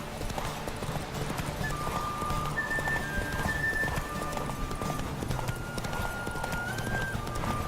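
A horse gallops in a video game, its rapid, rhythmic hoofbeats clopping steadily over game music from start to finish.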